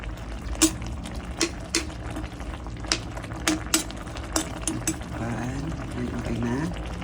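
Carrots being stirred into chop suey in a pot, with repeated sharp clinks of a utensil against the metal rim over a steady sizzling, bubbling bed, close and moderately loud.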